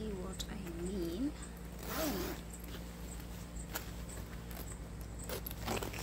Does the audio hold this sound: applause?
no